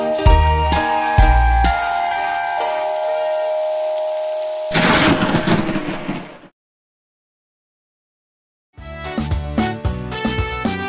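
Rain and thunder sound effect in a kids' song: a burst of broadband rain-like noise rises over the music, drops into a brief silence, then the melody resumes.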